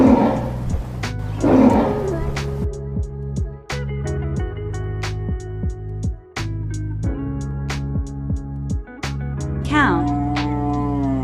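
A tiger gives a couple of loud, rasping roars, one at the start and another near the end, over steady background music.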